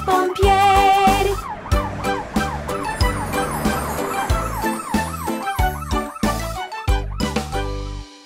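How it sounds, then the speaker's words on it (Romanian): A fire engine siren wails in steady rising and falling sweeps inside a bright children's cartoon song about cars, woven through the music with the tune's beat and melody from start to finish. "Știți mașina de pompieri, de pompieri, de pompieri?"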